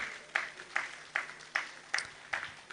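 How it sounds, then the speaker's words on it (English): Sparse, slow claps from a luncheon audience at a 2025 business event, about seven distinct claps spaced roughly every half second, fairly quiet and slightly distant in a room. "Ladies and gentlemen, a round of applause for Damola Akindolure"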